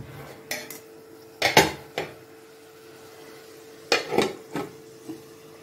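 A lid goes onto a cooking pot of simmering gravy: two clusters of metallic clanks and clatters, each a few quick knocks close by, separated by a quiet pause.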